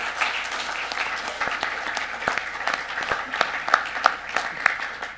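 An audience applauds panelists at an investment committee meeting, with steady, dense clapping from a roomful of people that carries on for several seconds without a break.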